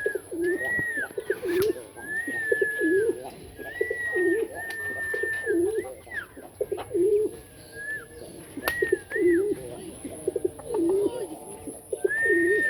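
Pigeons on a farm coo again and again in soft, rolling phrases, close and steady, with faint background noise and occasional voices.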